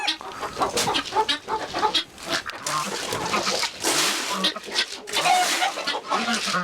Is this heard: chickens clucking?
yes